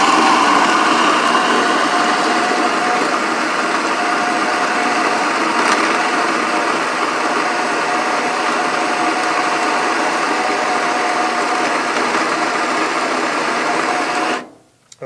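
A Baratza Vario coffee grinder grinds espresso beans in one loud, continuous, even whir that runs nearly uninterrupted for about fourteen seconds before abruptly cutting off.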